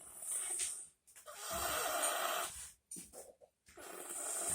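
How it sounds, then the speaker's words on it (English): A child snores loudly and close up, each long rasping inhale broken by brief silent pauses, in a repeating breathy rhythm with no talking. "this is the loudest snoring child"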